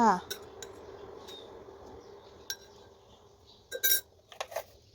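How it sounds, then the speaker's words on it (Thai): A spoon clinks against a glass while stirring a butterfly pea flower drink, giving a few sharp metallic taps and scrapes over a quiet background. "เสร็จแล้วก็นำช้อนมาคนนะคะ ให้สีของอัญชันละลายนะคะ"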